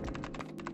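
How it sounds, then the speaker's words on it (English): Rapid keyboard typing from the video game 999: Nine Hours, Nine Persons, Nine Doors, quick soft key taps in an uneven burst over a steady low hum. "She's still typing, by the way, with one hand in the air."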